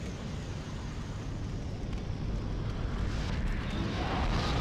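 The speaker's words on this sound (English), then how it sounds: "That was the sound of a boss dying." A boss dying in the video game Demon's Souls: a loud, dense rumbling roar that swells and holds for several seconds, broad and noisy like a crumbling blast, with no talk over it.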